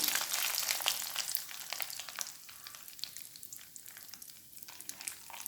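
Coconut pieces fry in coconut oil in a pan for a Kannur-style sadhya lemon curry, a bright, close crackling sizzle with busy popping that eases slightly toward the end, alone without talk.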